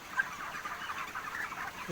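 Broiler chickens at fermented maize feed give faint, continuous soft clucking and murmuring, low in level and steady across the moment.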